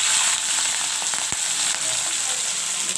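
Shrimp, about half a kilo, fries in hot oil in a pan, giving a loud, steady sizzle close by, broken by a couple of sharp clinks.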